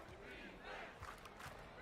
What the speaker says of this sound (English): Baltimore has to see if they can do it as the crowd does shout defense.